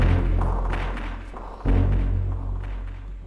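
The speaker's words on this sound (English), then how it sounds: "a bunch of gunshots with different, each of them resampled with a different low pass filter on it" Two heavy, booming low thuds of resampled gunshots processed with low-pass filtering, reverb and delay, each hit followed by a long muffled decaying tail, the second one louder.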